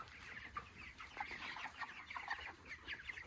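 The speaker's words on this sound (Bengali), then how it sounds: "মুরগি ভয় পাচ্ছে।" Chickens in a poultry shed cluck and squawk nervously, a busy run of short calls at moderate distance with no talk over them.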